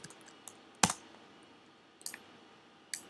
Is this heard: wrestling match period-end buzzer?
no